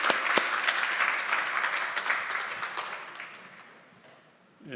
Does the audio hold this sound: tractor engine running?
no